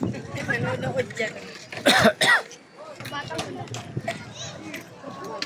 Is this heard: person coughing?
yes